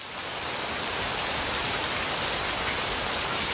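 Steady, dense rainfall pours without a break, an even full hiss of drops hitting surfaces, close and unvarying with no voices.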